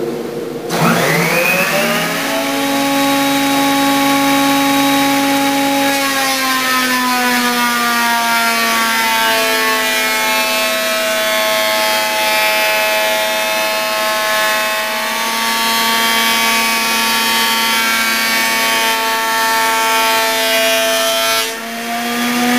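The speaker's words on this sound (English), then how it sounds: "This Makita 2040 makes a very smooth surface" A Makita 2040 planer runs steadily as it smooths wooden planks, a loud, sustained motor whine whose pitch dips as the blades bite into the wood and rises again near the end, with no talking.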